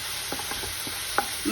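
Mint leaves fry on high heat in a pan, a steady soft sizzle with a few scraping stirs and light clinks of the spoon against the pan.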